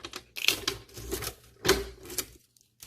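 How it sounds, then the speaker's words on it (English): Packing tape pulled off an AeroGarden box, a few close, loud tearing rips in separate bursts over a couple of seconds, ending in quiet. "So you just take off the tape"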